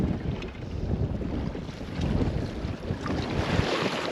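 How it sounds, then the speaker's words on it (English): Rough waves slap and wash against a small fishing boat as strong wind buffets the microphone, a continuous churning, splashing roar with no talk. "that was a bit of a scary wave"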